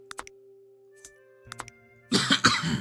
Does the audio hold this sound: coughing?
yes